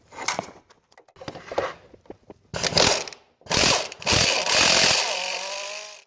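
Hand ratchet clicking in quick bursts while loosening a bolt on an Infiniti G20 power steering pump, short clatters first, then longer continuous ratcheting runs, close and clear without speech.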